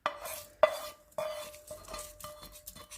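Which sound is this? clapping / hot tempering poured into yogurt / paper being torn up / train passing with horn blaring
hot tempering poured into yogurt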